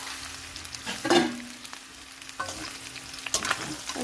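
Young jackfruit and prawns fry in oil in a kadai, a quiet close sizzle with a few clinks and scrapes of stirring.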